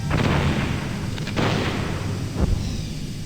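Explosions in Metal Gear Solid: a sustained rumbling blast opens, a second burst flares around the middle, and a sharp thud lands near the end, all over a constant low roar of game noise with no talking.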